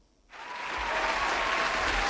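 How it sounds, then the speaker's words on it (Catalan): A burst of studio-style applause kicks in abruptly after a brief silence and swells into steady, loud clapping from a sizable crowd, like a sitcom sound effect. "no tenim riures, però tenim aplaudiments"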